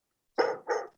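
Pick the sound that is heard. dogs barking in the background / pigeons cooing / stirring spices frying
dogs barking in the background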